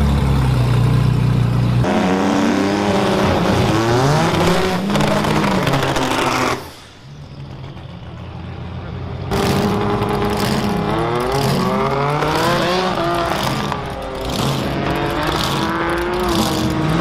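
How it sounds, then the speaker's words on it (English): Drift cars at Wildhorse Pass Raceway in Arizona race continuously, with engines revving and wailing loudly, pitch rising and falling as the cars slide past, briefly dropping back before the roar returns. "you can still hear the drifters going"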